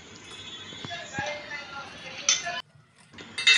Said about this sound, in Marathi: आता आपण झाकण काढून भाजी ही हलवून घेऊया।